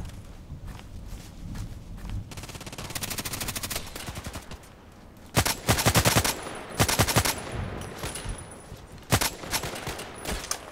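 An SVU-AS automatic sniper rifle fires in the shooter game Contract Wars, with loud close bursts of rapid shots and single cracks spread through the clip over game ambience.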